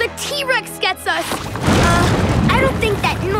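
Cartoon voices talk excitedly, then a loud deep rumbling roar from an erupting cartoon volcano swells and continues, with voices breaking in again over the noise.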